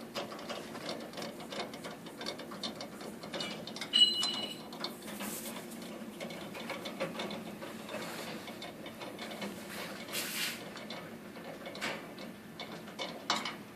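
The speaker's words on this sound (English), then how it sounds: "Back this, and you're just going to back these screws out." Screws are backed out of a pulley bracket on a Hydra 3D printer with a wrench or pliers, giving faint, close ratcheting clicks and small mechanical ticks in an otherwise quiet room.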